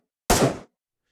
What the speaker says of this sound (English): Here we have the first-person thump and mechanical sound.